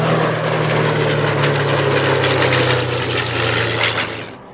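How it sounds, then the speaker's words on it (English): A Yak-9UM and a Morane-Saulnier MS.406 warbird fly past together, their piston engines making a loud, steady droning roar with a strong buzzing hum that holds and then fades away at the end. "another unusual pairing, a Yak 9 UM and a Moran 406"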